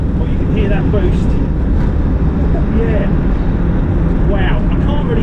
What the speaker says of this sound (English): You can't make out what I'm saying here due to the road noise, and it is loud.